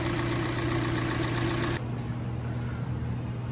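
A Kia engine with an ignition coil misfire idles steadily up close, a continuous mechanical hum that drops slightly in tone partway through, with no talking.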